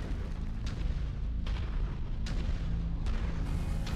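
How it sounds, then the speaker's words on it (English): Artillery fire in the MechWarrior 5 game booms every second or so, four or five heavy blasts over a constant low rumble of battle, loud and with no voices. "Looks like there is some more artillery."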